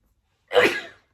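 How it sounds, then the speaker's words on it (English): A single sharp sneeze, close and loud, with a quick burst and a breathy trailing fade. "I'm going to sneeze again."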